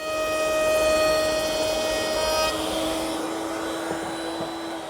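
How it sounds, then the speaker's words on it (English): A router at the table shapes a one-piece wood molding with a 1/2-inch radius bit, giving a loud, steady high-pitched whine that shifts in tone partway as the cut changes. "I'll form it at the router table."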